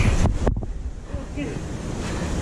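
Rushing river water near Parital, close to Nainital, heard outdoors as a steady broadband wash with wind buffeting the microphone, fairly loud throughout, with a brief thump early on.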